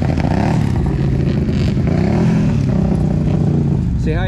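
A heavily modified motorcycle at the Massey Fall Fair mud bog roars loudly nearby, its engine droning and revving sharply toward the end.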